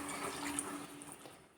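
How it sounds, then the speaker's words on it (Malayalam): A cup of water is poured into a pan of tomato curry, a brief, soft splashing gush that is close but faint and fades out within about a second and a half. "ഇനി ഇതിലേക്ക് 1 കപ്പ് വെള്ളം ഒഴിച്ചു കൊടുക്കാം."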